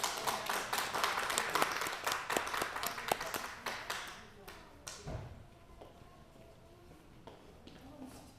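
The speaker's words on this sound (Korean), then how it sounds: "박수로 맞이해 주세요" Clapping from a church congregation at a Thanksgiving Sunday service welcoming people forward, fairly loud scattered claps for the first few seconds that then fade away into quieter room noise and a few thumps.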